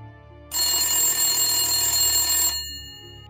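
A telephone rings in the video game Mycopsychosys, a bright, steady electronic ring lasting about two seconds and cutting off abruptly, with a low background hum beneath it and no talking.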